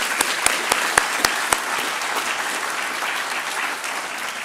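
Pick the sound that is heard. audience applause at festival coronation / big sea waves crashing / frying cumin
audience applause at festival coronation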